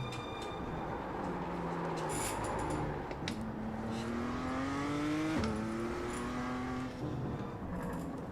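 A race car engine in the sim racing game iRacing, driven on a practice track, whines steadily as the revs climb and dip through gear changes, loud and continuous with no talk.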